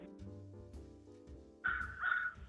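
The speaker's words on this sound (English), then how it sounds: "Can you hear the crow behind me?" A crow caws twice outdoors in the background, two harsh calls close together near the end, over a low steady hum.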